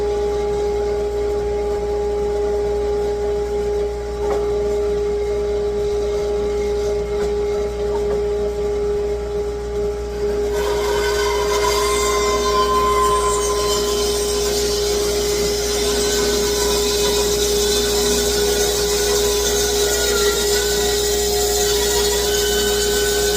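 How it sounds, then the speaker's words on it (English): Bandsaw set to a 45-degree angle trimming the edges off a wooden blank for a French rolling pin: a steady loud machine hum and whine, with a brighter cutting hiss joining midway and continuing to the end. "I'm going to throw this on the band, set the bandsaw up, 45-degree angle"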